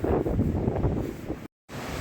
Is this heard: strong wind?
yes